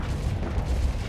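Missiles launch in the space combat game Starsector, a dense, booming rumble of overlapping blasts and whooshes that fills the short moment without any voices.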